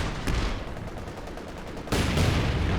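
An artillery barrage in Company of Heroes 2 lands on grenadiers as a dense, rumbling volley of blasts that swells sharply louder partway through.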